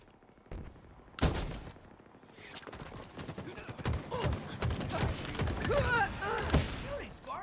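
Video game gunfire in a match, scattered shots and bursts growing busier toward the end, mixed with game effects and a voice talking over it.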